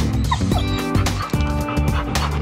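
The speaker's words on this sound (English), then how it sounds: "Chief, Nike, Bear, you guys are gonna meet the puppies." Several dogs, a father dog among them, yip, whimper and bark excitedly while meeting their puppies, a busy, continuous stream of close, loud squeaks and cries with no clear pauses.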